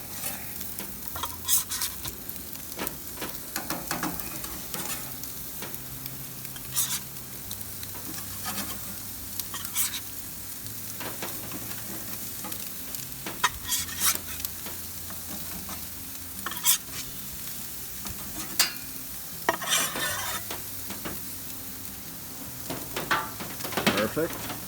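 Burgers frying in a pan on a smoker grill setup, a steady broadband sizzle with scattered crackles and pops running throughout at moderate loudness, with light background music.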